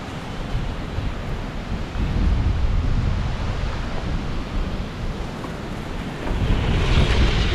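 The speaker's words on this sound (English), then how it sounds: "Woo, it's windy." Strong wind roars and buffets continuously, loud and close, with gusts swelling stronger toward the end.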